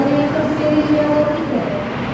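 A long-distance train, hauled by an aging 1978 locomotive from the Yogyakarta depot, rolls into Tegal station with a steady low rumble and a droning tonal hum, heard nearby without a break.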